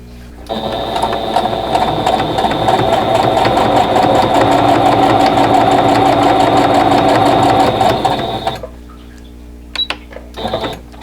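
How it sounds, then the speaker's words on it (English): A sewing machine stitches a quilt block in one loud, steady run of rapid whirring for about eight seconds, stops, then gives a couple of short bursts. "So I'm going to go ahead and sew that"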